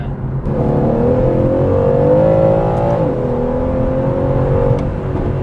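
An Aston Martin DB11 pulls away under acceleration, its engine droning with a rising then steadying pitch, heard loud and close from inside the car with no talking.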